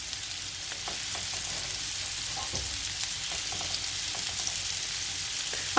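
Shrimp frying in a pan with chili powder, giving a steady close hiss of hot oil with faint crackles and a few soft stirring clicks throughout, no voices.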